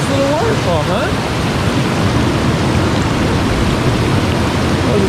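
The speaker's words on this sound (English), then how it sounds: "It's a nice little waterfall, huh?" A small wilderness waterfall produces a continuous, loud broadband rush of falling water, steady and close, with a few brief bird chirps near the start.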